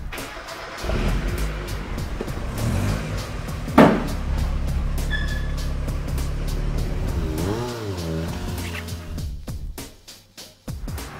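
A Mazda MX-5 fitted with new coilovers on a test drive, its engine revving and accelerating steadily for several seconds, with a brief tire squeal and a fading pass near the end.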